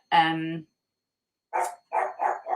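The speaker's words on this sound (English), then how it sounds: "the dog is barking in the background." A dog barks somewhere in the background, first one drawn-out howl-like bark, then after a pause a quick run of three or four sharp barks, loud and close to the microphone.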